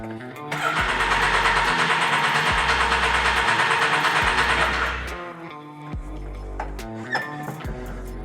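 A Can-Am Maverick X3 engine cranks over for about five seconds during a drown-mode cycle for an oil change, a steady loud mechanical churn that cuts off, followed by quieter clicks and small clanks.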